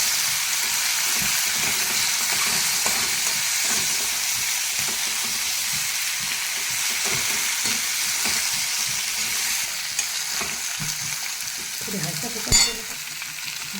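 A dry eggplant curry mixed with peanut chutney sizzles in a pan as it is stirred, a steady close frying hiss with soft scraping strokes and a sharp clink near the end.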